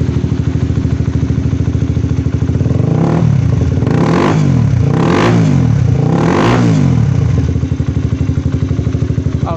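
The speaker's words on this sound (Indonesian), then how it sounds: "Coba kita gas Mas Bro." A Honda CBR 150R motorcycle idles loudly up close, then its engine is revved three times in quick succession, each rising and falling, before it settles back to a steady idle.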